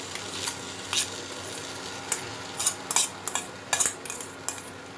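Boiled potato being stirred with spices and a little gram flour in a pan, with scattered spoon scrapes and clinks against the pan over a soft background.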